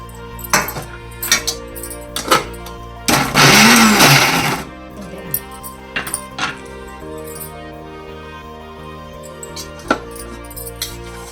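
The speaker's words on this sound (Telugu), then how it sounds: "మిక్సీ వేసుకున్నాం కదండి" A kitchen mixer grinder blends a homemade cucumber chutney with tamarind in one loud, roaring burst of about a second and a half, surrounded by scattered clinks and clatters of jars and utensils, with no talking.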